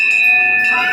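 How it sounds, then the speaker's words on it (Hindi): A temple bell at Shri Siddhbali Dham in Kotdwar, Uttarakhand, rung by a child, gives a single bright metallic strike with sustained ringing overtones that fade briefly, close and loud. "घंटी बजाना बेटा"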